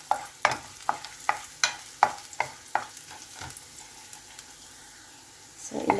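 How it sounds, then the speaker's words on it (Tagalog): Ginger and garlic sautéing in a pan, a steady light sizzle broken by a regular run of sharp utensil scrapes and taps about every third of a second, then a louder burst of frying at the end. "Igisa natin ito. Kunting luya lang, pampabango. Saka apat na cloves na bawang"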